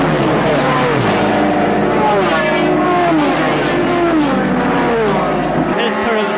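A Ducati racing motorcycle screams through fast curves in sixth gear at around 140 mph, a loud, close, continuous high-pitched engine howl with shifting pitch, ending in a sudden cut.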